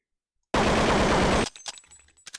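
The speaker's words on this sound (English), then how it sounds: "you wouldn't like shoot the whole clip, but that's essentially very good practice if you want to spray patterns" An AK rifle sprays a continuous burst in Counter-Strike, a loud, dense roar of rapid gunfire lasting about a second that stops abruptly, followed by a few scattered, fainter clicks and echoes.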